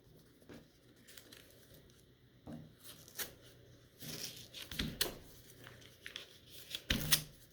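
Close, quiet crinkling and tearing of a paper envelope holding WW2 militaria, with papery rustles and several sharper rips and shuffles in the second half.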